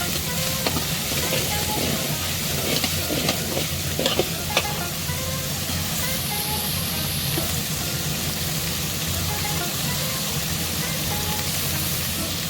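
Onions sautéing in a pan until brownish for Bombay saaru, a loud continuous sizzle and crackle with occasional stirring scrapes throughout, no talking.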